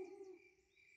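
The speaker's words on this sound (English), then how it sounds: "I certainly did. It's a girl owl." A single soft cartoon owl hoot, faint and distant, a short low call fading out within a second, with no one speaking.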